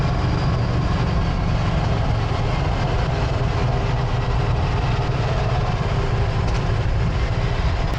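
Ducati Scrambler 800 L-twin motorcycle engine while riding, a steady loud low rumble mixed with wind roar, heard continuously from the rider's position without pause.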